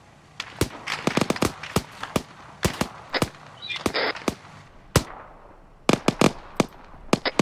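Rapid bursts of rifle and machine-gun fire from an ArmA 3 infantry section exercise, sharp cracks arriving in irregular clusters and volleys, some close and loud, others a little farther off, with no talking.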